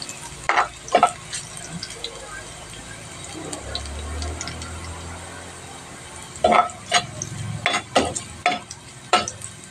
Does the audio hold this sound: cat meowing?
no